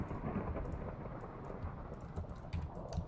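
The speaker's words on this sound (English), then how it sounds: "Why is it raining so much?" Rain pours steadily in the Minecraft video game, a dense, even hiss of falling water with soft low rumbles of thunder rolling beneath it throughout.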